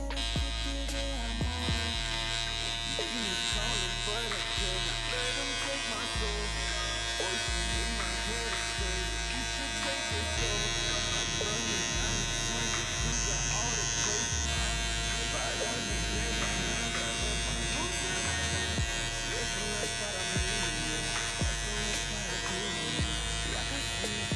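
Electric hair clippers with the lever set halfway run steadily and close up while cutting a low fade at a barbershop, a continuous buzzing hum with brief dips as the blade lifts, under occasional speech.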